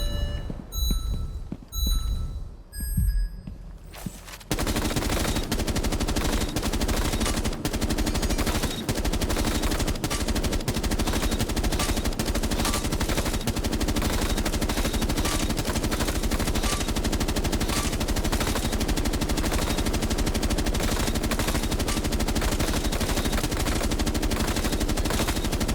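Video game gunfire in a shooting range during aim testing with console settings, a few sparse shots at first, then a dense, relentless stream of rapid automatic fire that stays loud and continuous to the end.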